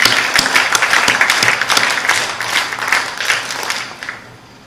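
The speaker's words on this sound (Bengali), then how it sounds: "সবাই মিলে আমরা একটা হাততালি দিই তাদের জন্য" An audience applauds scouts at a ceremony, a dense burst of many hands clapping together that holds steady and then tapers off toward the end.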